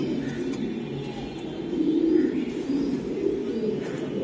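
Racing pigeons in a loft coo in low, soft, continuous warbles close by, with several birds overlapping throughout and no talk.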